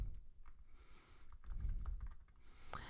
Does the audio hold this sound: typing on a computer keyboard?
yes